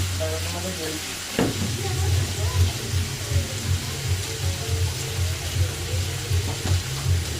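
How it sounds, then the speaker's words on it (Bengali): Beetroot and fish fry in pans on a gas stove, giving a continuous close sizzle with a low rumbling burner hum underneath and a single sharp clink early on. "এখানে বিট আলু ভাজা বসিয়েছি, আর একবারে মাছ ভাজা বসিয়েছি।"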